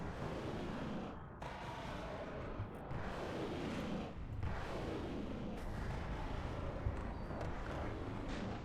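A modded war game's rocket artillery, resembling a TOS launcher, fires and detonates in a continuous loud rumbling barrage, with dense overlapping booms and no clear gaps.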